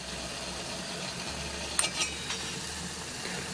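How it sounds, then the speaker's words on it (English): Water coming to a boil in a Jetboil pot over an alcohol stove, a steady low hissing rumble with a few faint bubbling pops and clicks, no voices. "you can definitely hear this thing is starting to take off now and boil"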